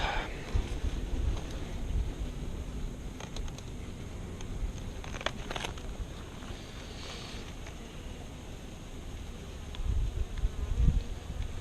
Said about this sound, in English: There's a lot of bees